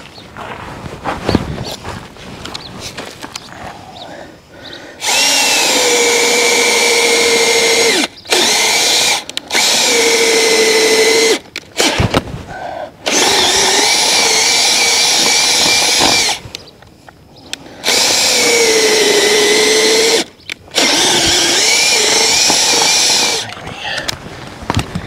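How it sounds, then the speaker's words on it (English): A power drill driving screws into a raised garden bed during assembly, with several long, loud whirring runs and short pauses between them, fairly close. "your drill bit didn't come off that time"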